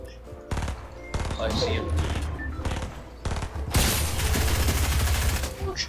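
Rapid assault rifle bursts in Fortnite, loud close automatic fire in choppy strings that build into a dense volley, while a player speaks briefly over it.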